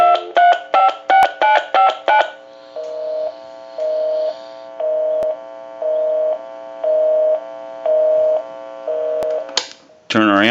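A quick run of touch-tone dialing beeps from a Mickey Mouse telephone, then a steady series of evenly spaced ringback tones, ending with a brief clatter.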